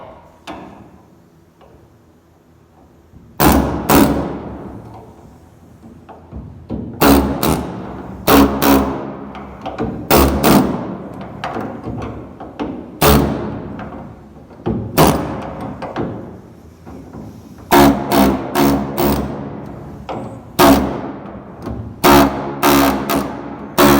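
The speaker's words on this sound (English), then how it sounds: "I've gone around with the air chisel, I've buzzed all those spot welds." Air chisel buzzing through spot welds on a Dodge truck bedside, loud sharp bursts of rapid hammering repeated in short clusters with brief pauses between, close up in a workshop.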